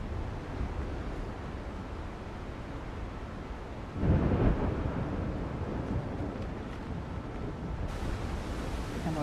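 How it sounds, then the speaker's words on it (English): Thunderstorm at sea in the survival game Windrose: a constant wash of rain and wind, with a louder rumbling thunder swell midway, steady and fairly close. "Oh, it's nice and stormy."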